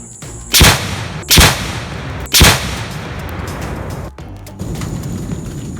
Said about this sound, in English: to initiate the explosion you have to shoot at it.